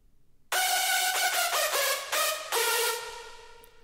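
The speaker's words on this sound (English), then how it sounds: "And basically this is just a heavily detuned saw lead with some" Bright, buzzy hardstyle lead built from a heavily detuned saw synth with a quarter pulse wave layered in, dry and loud, playing a short melodic phrase of sustained notes.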